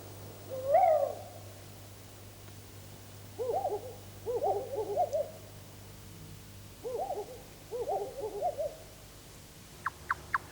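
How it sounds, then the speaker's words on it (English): Typical owl hooting in three bursts: a single loud hoot near the start, then two clusters of several rapid hoots spaced a few seconds apart, fairly close and clear over a low steady hum, with a few faint clicks at the end. "Here again is a typical owl for you to compare these two particular features."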